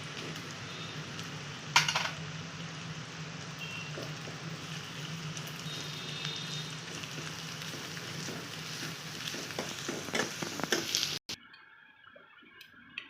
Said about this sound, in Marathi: आलं लसूणची पेस्ट टाकणार आहोत,